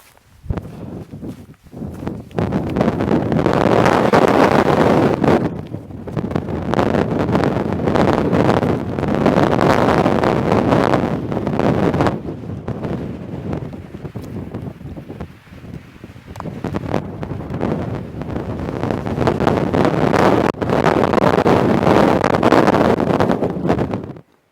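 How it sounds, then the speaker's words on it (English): Strong wind on the Miller Peak summit in Arizona's Huachuca Mountains at 9,470 feet, buffeting the microphone in loud, surging gusts that rise and ease in waves, with a brief lull midway. "It's about to get windy."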